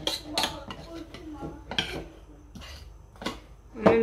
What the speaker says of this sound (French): On va bien gratter.